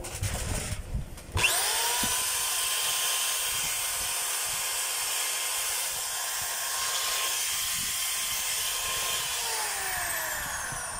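A power drill is test-run, starting with a click and spinning up to a steady loud high whine that holds evenly, then begins winding down near the end, close and with no talk.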